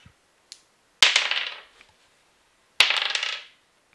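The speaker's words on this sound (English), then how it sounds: "I don't like the sound of those dice, kid." Two bright rattling rolls of tabletop game dice, each a scatter of quick clicks fading out, preceded by a few faint taps, close and isolated with no talking.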